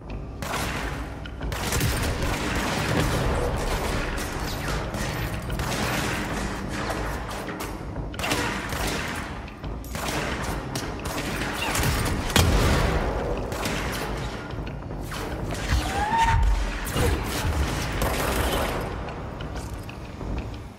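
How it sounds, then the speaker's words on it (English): Dense, chaotic gunfire and explosions from a third-person shooter video game, with rapid bursts and heavy booms layered continuously and loudly throughout, with no pauses. "it also had some solid and chaotic third-person shooting"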